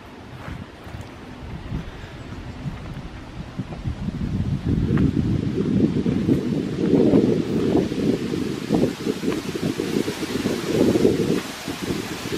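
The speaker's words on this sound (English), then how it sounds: "The wind's picking up now." Wind gusting outdoors along a disused railway trackbed, a steady broad rush that swells louder partway through and keeps buffeting with microphone rumble, with no talking.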